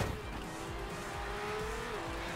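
A red race car in Horizon Chase Turbo pushes through a run of turns, its engine holding a steady drone while tires squeal in short, recurring bursts.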